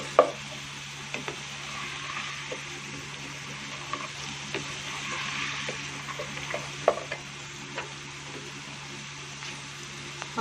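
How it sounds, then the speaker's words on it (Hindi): Potatoes and green beans sizzling together in a frying pan, a steady soft crackle with occasional stirring scrapes and faint clicks, close and moderately quiet, with no talking. "आलू और फलियां जब तक फ्राई हो रहे हैं"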